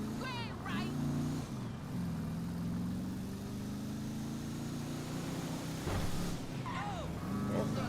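Worn-out old car engine in GTA 5, a steady mid-pitched drone with shifting tones as it drives, under continuous talking.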